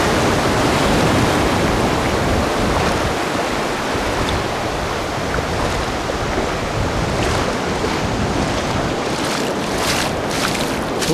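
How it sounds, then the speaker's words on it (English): Ocean surf rolling onto the beach at Whitsand Bay in Cornwall, a loud, continuous wash of breaking waves mixed with steady wind rumble, with no voices. "And just look at that beautiful surf."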